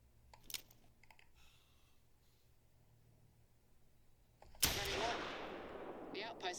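A single loud pistol shot fired in theHunter Call of the Wild hunting game, a sudden sharp crack followed by a long echoing tail across open terrain, after a quiet stretch with faint clicks.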